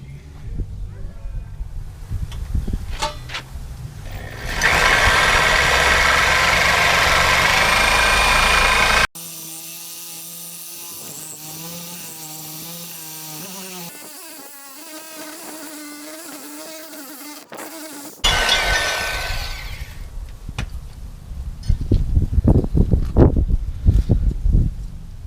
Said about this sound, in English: I'm going to use my reciprocating saw and make our cut.